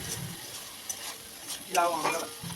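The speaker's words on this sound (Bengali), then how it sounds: "ভালো করে মিশিয়ে দিয়ে দেব চিনি আবারও ভালো করে মিশিয়ে নেব" Prawn masala for chingri malaikari being stirred in the pan with salt, turmeric and sugar: a soft, low sizzle with a few spatula scrapes that grow busier toward the end.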